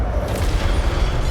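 Incendio fire spell cast in Hogwarts Legacy on PS5, a loud, continuous low rumbling blast of fiery roar sustained throughout, with no talking.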